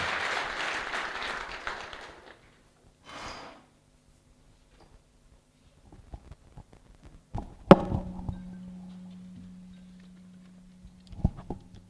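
A short burst of applause from a university orientation audience fades out, followed by scattered claps, taps and clatter in a quiet room.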